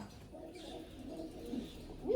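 Soft, low cooing of a red Chinese pigeon in a quiet space, a few muffled rolling coos, faint and close.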